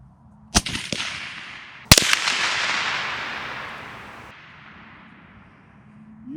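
Two sharp rifle cracks from a .338 Lapua fired outdoors at an engine block, the second followed by a long, loud rolling echo that slowly fades over several seconds; no talking.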